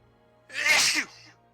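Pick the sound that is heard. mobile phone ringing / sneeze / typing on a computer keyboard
sneeze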